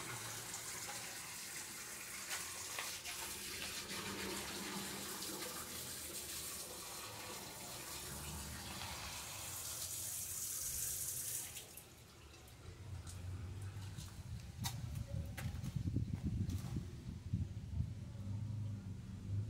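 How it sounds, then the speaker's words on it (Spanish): Water runs steadily as someone washes their hands beside a broken storm drain pipe, a continuous close splashing and hissing that shifts partway through into heavier, fuller gushing. "De paso me lavo las manos."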